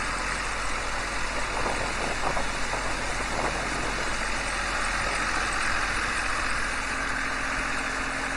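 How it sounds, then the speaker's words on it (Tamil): Steady, dense rain falls during a village flood, a continuous close hiss with a low, engine-like rumble underneath and no talking. "மழை பெஞ்சு கொண்டு இருக்குது"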